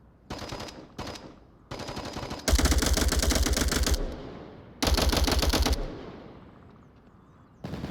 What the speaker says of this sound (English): Lots of cover fire coming out from walls and move.